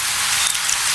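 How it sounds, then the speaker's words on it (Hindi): Rain in a spooky night-time story, a dense steady hiss of falling drops heard alone for a brief moment. "बारिश की आवाज"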